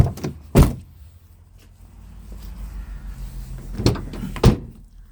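Car door locks clunk shut on a winter day, with a few sharp, close mechanical thuds spaced apart over a low rumble and no speech.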